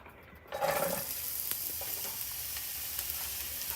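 Sliced onions hit a hot pan for a cheesesteak and burst into a loud sizzle after a quiet moment, then settle into a steady, close frying hiss with faint scraping.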